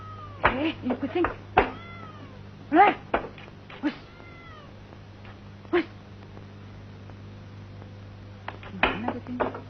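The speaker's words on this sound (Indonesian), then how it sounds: "Ini kucing." A cat meows in short, scattered cries, some drawn out like a caterwaul, with faint talk and a steady low hum beneath.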